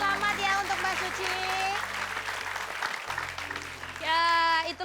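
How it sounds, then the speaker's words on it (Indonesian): A studio audience at a TV entertainment show applauds in a broad wash of clapping, mixed under a host's voice and music, swelling again near the end. "Kita kasih tepuk tangan sekali lagi untuk Mbak Suci"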